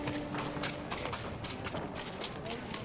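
Horses gallop in Ghost of Tsushima on PS5, a fast run of hoofbeats at steady loudness mixed with game sounds and talk from players throughout.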